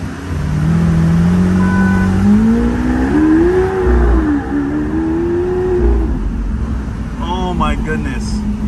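A Lamborghini Aventador SV in Corsa mode on a Las Vegas outing revs loud and close, its engine note climbing and wavering in pitch for several seconds before settling, with a brief chirp near the end.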